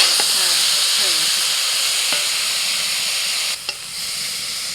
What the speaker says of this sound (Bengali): একটু জাল বেশি লাগে ওই শাক ভাজতে একটু জোরে জাল দিচ্ছি